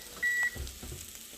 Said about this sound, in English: that's the sound of the oven being ready